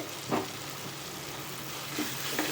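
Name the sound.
sautéing coriander leaves in tomato chutney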